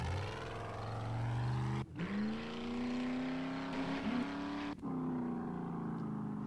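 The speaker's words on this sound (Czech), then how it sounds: "Já si seberu auto a Barbie ví, kde to je, takže nás tam odveze." A car engine in the video game 7 Days to Die (Alpha 17) drones and climbs steadily in pitch, broken by two brief gear-shift drops, loud and close with no talking.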